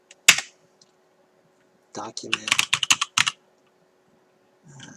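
Code being typed on a computer keyboard during a debugging session, with a lone keystroke and then a quick burst of several clacking keys, close and crisp against near silence, and a faint voice at the very end.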